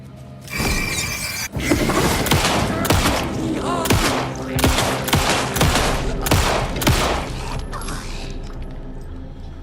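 Gunfire in the video game Alan Wake 2: a rapid series of loud, sharp shots with mechanical clicks and reload clatter in between, dense and close, with some quieter sounds at the end.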